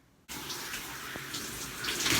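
A shower switches on abruptly and runs steadily, giving a continuous hiss of falling water that grows slightly louder toward the end.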